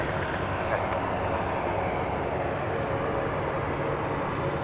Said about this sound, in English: This is a Beech B200 Super King Air going to Midland, Texas